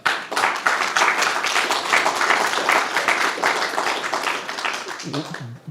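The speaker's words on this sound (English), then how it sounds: "Another round of applause to her." An audience at a cultural celebration of art, poetry and music applauds a performer with a full, sustained round of dense clapping, and a voice starts speaking as it fades at the end.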